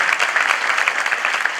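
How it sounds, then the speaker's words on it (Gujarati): Audience applause for a singer who has just performed his own self-written devotional kirtan, a steady dense wash of many hands clapping throughout without a break. "જોરદાર તાળીઓના નાદથી વધાવીએ"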